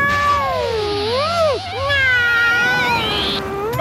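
A cartoon cat meows in long, wavering, drawn-out cries with rising and falling pitch, loud and close, two extended calls in succession.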